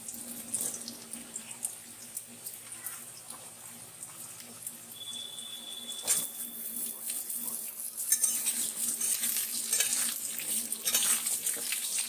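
Potatoes fry steadily in a pan after tempering spices as they are stirred, with occasional scraping and clinks, fairly quiet and close.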